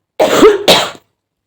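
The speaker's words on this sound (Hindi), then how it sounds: "सॉरी गाइस यार, मेरी खांसी के लिए मैं क्या करूँ यार" A single close, loud cough with a short second burst, like a throaty cough followed by a quick throat clear, alone in an otherwise quiet indoor setting.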